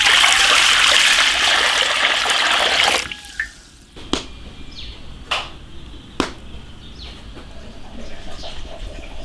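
Water gushes loudly into a pot for boiling noodles for about three seconds. Then it stops, and a few sparse drips and light knocks follow in a quieter room.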